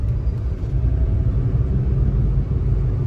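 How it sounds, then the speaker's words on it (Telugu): Steady low road-traffic rumble on a Sunday, a continuous engine drone of passing vehicles with no voices over it. "ఈ ఆదివారప్పుడు కూడా ట్రాఫిక్."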